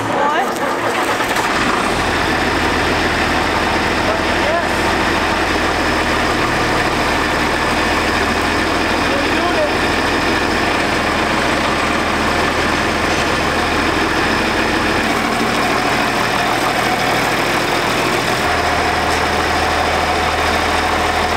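A 2019 Ram 3500 Limited with a Cummins diesel engine idles steadily and close by, a low, constant rumble with a slight shift in tone partway through, while people talk over it.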